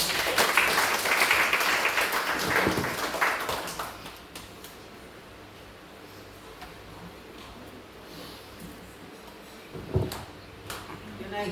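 Congregation clapping after a prayer, loud applause for the first few seconds fading into quieter room noise, with a brief burst of claps again near the end.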